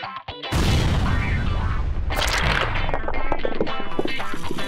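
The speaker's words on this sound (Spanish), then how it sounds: "Para eliminar rocas tan grandes, se necesita una explosión controlada." A controlled dynamite blast breaks up large rocks near a bridge and tunnel: a sudden loud boom, then a sustained roaring rumble and a second burst of crashing debris as rock settles.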